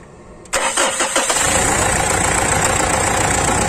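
A 2008 Mitsubishi Triton pickup engine cranks briefly and catches, then settles into a steady, loud idle that runs to the end, with no talk over it.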